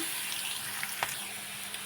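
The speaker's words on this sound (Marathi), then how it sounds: "जिरं लसूण टाकत तिथं त्याला मस्त अजून दोन मिनटं कलसायलेच मी" Ground cumin and garlic frying in a pan for a mango-juice-and-puri meal, a constant crackling sizzle with a few brief stirring scrapes, close and without speech.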